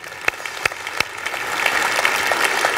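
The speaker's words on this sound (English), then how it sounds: "Let's give those folks a round of applause." An audience at a school district state-of-the-district address applauds, with a few sharp claps up front swelling into a steady, full round of clapping from a large crowd.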